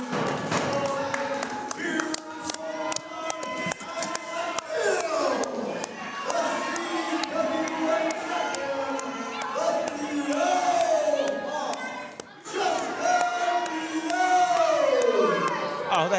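A wrestling crowd at a CWF event cheering and shouting after the champion's pinfall, a loud roar with whoops and whistles throughout, a commentator's voice heard over it.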